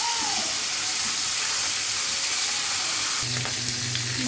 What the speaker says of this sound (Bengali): মাথাগুলো ভাজা হয়ে গেছে, এখন তুলে ফেলবো।